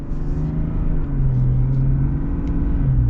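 A 2023 Chevy Silverado 1500 Duramax diesel pickup with a 10-speed automatic pulls at partial throttle, its smooth, steady low engine drone loud and close throughout with no talking.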